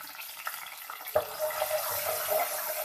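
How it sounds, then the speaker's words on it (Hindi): Two to three tablespoons of water go into a pan holding onions and ginger-garlic paste, giving a brief splashing pour with a soft watery hiss that carries on quietly for a couple of seconds. "साथ ही हम इसके अंदर डाल देंगे 2 से 3 टेबल स्पून पानी"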